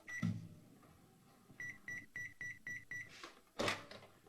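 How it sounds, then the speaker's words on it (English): A microwave oven's timer finishes with a run of six evenly spaced, clear electronic beeps, set among faint kitchen clatter and a louder knock or clunk before and after, while cooking a syrup mixture for pork ribs. "We're going to put this in the microwave for 1 minute."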